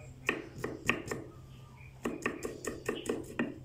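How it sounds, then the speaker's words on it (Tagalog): A knife chops onion on a board in quick bursts of sharp, close taps, a run of five, a pause, then a steadier run of about eight. "tayo naman ay magagayat ng sibuyas"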